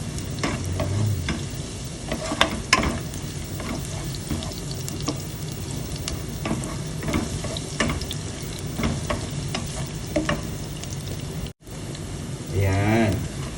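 Garlic being sautéed in a little oil for adobong kangkong crackles and sizzles steadily, with scattered utensil clinks, a brief dropout near the end and a short burst of running tap water.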